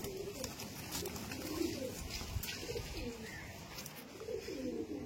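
Home-bred loft pigeons give rounded, rising-and-falling coos one after another, nearby and fairly steady, over low background noise.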